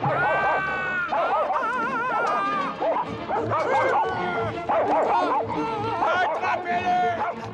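Several dogs bark and yelp excitedly together, loud and continuous, with whimpering yips mixed into the chorus.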